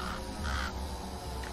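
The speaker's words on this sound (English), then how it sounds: "Crow." A crow cawing, two harsh calls in quick succession over a low rumbling background, moderately near.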